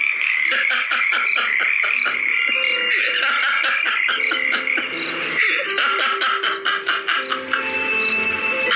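Frogs croaking steadily in a dense overlapping chorus, with rapid repeated pulsing calls close and loud throughout, no voices.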